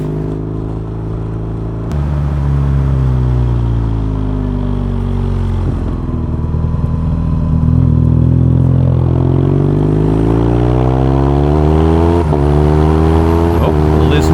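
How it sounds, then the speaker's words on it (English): A motorcycle with a stock exhaust runs loud and close, its engine droning steadily with rising and falling revs and a deeper surge partway through. "one of the, if not the best, stock sounding bike"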